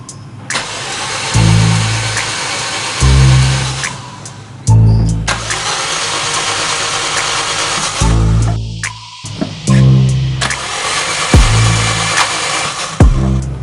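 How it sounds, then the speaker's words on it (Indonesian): A car engine being cranked by the starter in repeated loud bursts, each lasting a second or two, separated by brief pauses, recorded close up, during a tune-up after spark plug replacement. "kita akan coba starter mesin ini."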